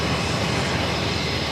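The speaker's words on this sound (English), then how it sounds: "the updated New York Jets livery on the A320 just touching down on" An Airbus A320 in New York Jets livery touches down on runway 4 left at JFK, its engines producing a loud, steady, broadband roar with no break.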